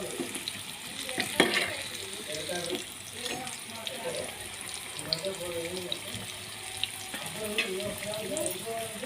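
Sweet corn pakodas deep-frying in oil until golden brown, giving a continuous crackling sizzle with occasional bubbling bursts and stirring clinks, close and steady, with a voice talking over it.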